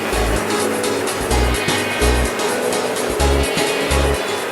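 A seasoning machine tumbles banana chips in balado spice, giving a steady loud mechanical whir with a regular rhythmic thumping roughly every second, close by and with no talk.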